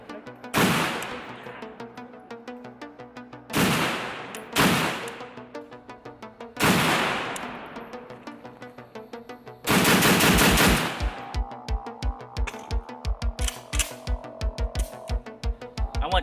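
A Draco pistol in 7.62x54R fires several loud, sharp shots with booming tails, then rapid bursts of fire near the end, heard outdoors.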